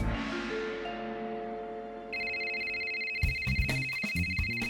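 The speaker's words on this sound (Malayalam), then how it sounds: "കൃത്യസമയത്ത് റീചാർജ് ചെയ്താൽ മൊബൈൽ അടിക്കും" A cartoon mobile phone rings with a bright electronic melody after a fading chime, the ringtone repeating loudly and alone with no talk.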